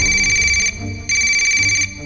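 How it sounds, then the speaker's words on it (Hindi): A telephone rings in two electronic bursts with a short pause between them, loud and close, with no one speaking. "और तभी मयंक का फोन बजा।"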